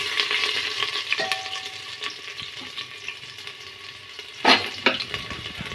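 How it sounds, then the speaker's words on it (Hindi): Cumin and dal mixture stirred in a hot pan, a continuous sizzle with spatula scrapes and a louder burst of frying near the end, nearby and without speech. "अब ये सब जब अच्छे से मिक्स हो जाएगा अब इसको अच्छे से चला लेती।"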